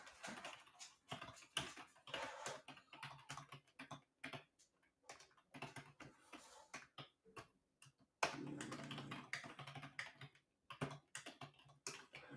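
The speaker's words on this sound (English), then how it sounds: "I'm just typing in here" Rapid clicking of a computer keyboard during a live trading session, with irregular bursts of keystrokes and short pauses and a denser flurry of typing toward the end, heard close and with no voices.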